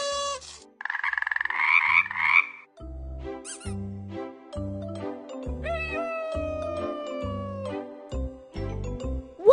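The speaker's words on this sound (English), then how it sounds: "Find the frog." Cartoonish frog croaks from a children's game app sound over bouncy synthesized music with bright tinkling tones, the croak standing out near the start before the tune continues.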